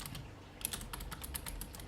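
Rapid, irregular clicking of a computer keyboard being typed on while coding a Unity 2D platformer, close and fairly quiet, with no voice.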